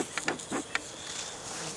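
A soft, steady buzz of many honey bees swarming close by at the front of a beehive, with a few brief louder passes early on.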